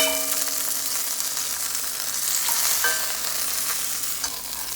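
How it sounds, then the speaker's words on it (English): A cumin crusted salmon fillet fries in a pan, a close, steady sizzle with a few clinks and scrapes as it is flipped. "So the bottom, see if I can flip it without making a big mess."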